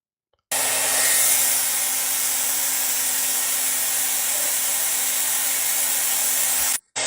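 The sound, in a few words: blow dryer blowing on an opened PS4's fan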